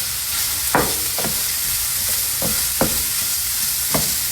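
A spatula spoon stirs a sausage and sweet potato breakfast casserole mix in a hot pan, with a steady sizzle underneath and several distinct scraping strokes spaced irregularly.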